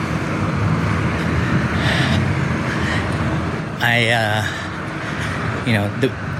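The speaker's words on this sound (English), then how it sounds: "that's the sound of Anaheim commute or traffic on a Saturday afternoon." Saturday afternoon road traffic in Anaheim, a steady broadband roadway hum of passing cars with a brief louder vehicle swell midway, plus a short birdlike chirp near the end; background voices murmur faintly.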